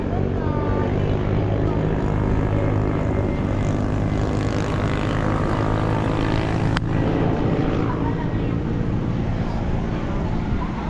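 A Cebu Pacific airplane roars loud and close with a steady, continuous propeller-engine drone throughout, brief voices faintly under the noise.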